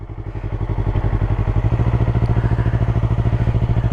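A motorcycle engine thumps in a steady, rapid pulse as the clutch is gently let out during a riding lesson, close and fairly loud, its beat firming slightly after the first half second.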